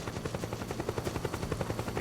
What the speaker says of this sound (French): C'est quoi, c'est l'hélicoptère qui lui fait peur?